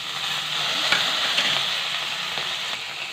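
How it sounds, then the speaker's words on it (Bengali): A hilsa fish head frying in hot oil left over from frying eggplant, giving a steady, close crackling sizzle with small pops scattered through it. "ইলিশ মাছের মাথাটা ভেজে নিতে হবে।"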